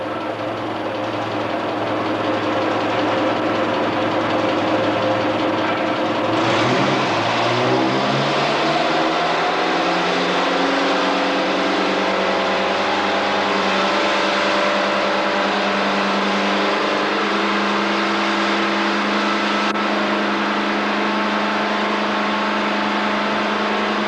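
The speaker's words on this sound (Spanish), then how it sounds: "Acelerando el motor" Car engine revved during a carburetion check in a workshop, a steady loud drone that rises sharply after a few seconds and then holds at a higher, sustained pitch, close and continuous with no talk.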